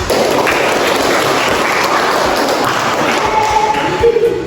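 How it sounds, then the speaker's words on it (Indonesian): A classroom of students claps together on cue for several seconds, a loud, dense, steady burst of applause filling the room with no break. "Iya, kasih tepuk tangan."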